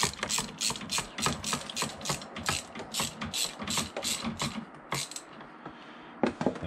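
A hand ratchet clicks in quick repeated bursts while tightening an engine mount bolt on a BMW 1 Series, close and sharp, with a short pause before a final few clicks.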